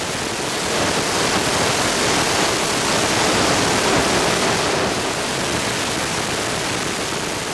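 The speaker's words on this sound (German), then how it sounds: "Die Schwerlast-Ariane legt einen Bilderbuchstart hin." Ariane 5 heavy-lift rocket lifting off in a textbook launch, a steady, dense broadband roar holding at full loudness throughout with no voices.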